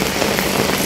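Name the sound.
heavy rain falling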